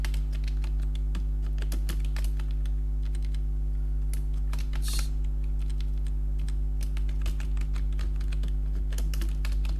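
Continuous clicking of a computer keyboard as an address is typed into a school fee and student details management program, steady irregular keystrokes close by over a low constant hum, with no talking.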